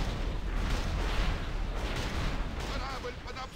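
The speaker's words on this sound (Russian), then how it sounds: "Корабль под обстрелом!" Ship cannons fire in a video game battle, a steady rumbling barrage of heavy booms and bursts, with a voice briefly talking over the tail end.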